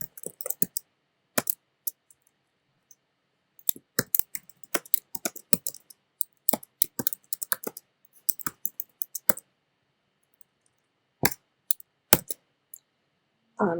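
Text is typed on a computer keyboard: irregular bursts of sharp, close key clicks with short pauses between runs, fairly quiet, alone with no talk.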